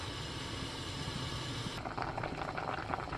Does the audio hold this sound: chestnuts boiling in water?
yes